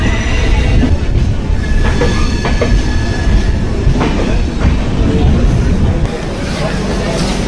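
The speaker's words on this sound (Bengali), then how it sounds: "এই মুহূর্তে আমি রয়েছি এই পুরী সুপারফাস্ট এক্সপ্রেসের first stoppage Santragachi railway station" The Puri Superfast Express at Santragachi railway station gives a loud, steady rumble of rolling stock with rattling and faint clicks, running continuously and dipping slightly near the end.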